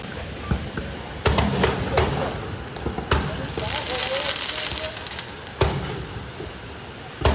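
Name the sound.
two explosions outside Brazil's Supreme Court, played news footage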